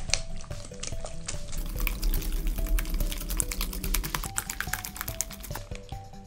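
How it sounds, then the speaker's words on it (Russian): Milk poured into a whisked egg mixture with salt, sugar and vanilla sugar gives a soft liquid splashing, faint beneath music. "Вливаем молоко."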